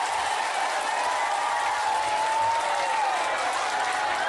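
Audience applause from a crowd at a Javanese-language comedy or storytelling performance, steady dense clapping sustained throughout at moderate level with no talk over it.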